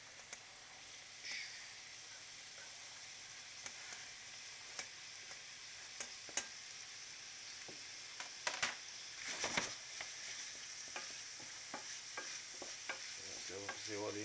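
Onions frying in a pan with chicken leftovers, a steady soft sizzle with scraping stirs and clicks of a utensil against the pan that grow busier toward the end, close and fairly quiet with no talk.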